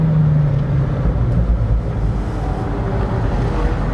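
Pagani Huayra supercar with its roof down, exhaust droning low and steady from close by under wind rush, with no voices over it.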